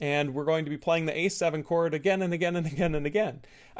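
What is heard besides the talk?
No everyday noise stands out behind the speech.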